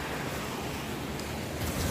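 Surf washing up on a beach, a steady broad wash of waves with wind buffeting the microphone throughout, swelling slightly louder near the end, with no voices.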